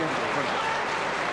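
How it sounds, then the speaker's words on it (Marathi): A large crowd at an outdoor political campaign rally applauds in a dense, continuous roar of clapping, loud and unbroken through the short moment. "सर्वच स्टेजवरच्या मान्यवरांसाठी एकदा जोरदार टाळ्या झाल्या पाहिजेत."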